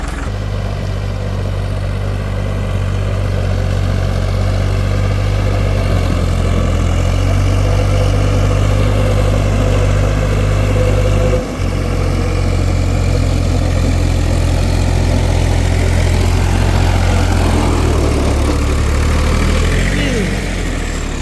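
An iron-wheeled tractor drives through a muddy field being ploughed, its heavy engine a loud, steady low rumble with a brief dip midway before the drone resumes unchanged.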